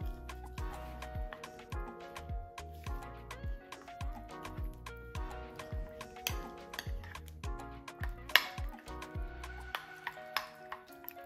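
Lip gloss being stirred in a small container, a series of light irregular clicks and taps with soft sticky scraping, close and fairly quiet, no talking.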